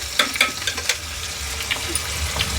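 Dried red chillies and asafoetida spit and crackle in hot oil as a tempering for tomato dal, a steady close sizzle broken by scattered sharp pops and a few stirring scrapes.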